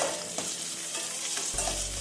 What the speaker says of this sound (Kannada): ಸಣ್ಣ ಉರಿಯಲ್ಲಿ ಅದರಲ್ಲೇ ಅದು ನೀಟಾಗಿ ಬೇಯಬೇಕು. ಆ ಥರ ಒಗ್ಗರಣೆ ಎಲ್ಲಾನು ಮಾಡಿಸ್ಕೊಂಡು ಅದಕ್ಕೆ ಹೀರೆಕಾಯಿ ಹಾಕೋಣ.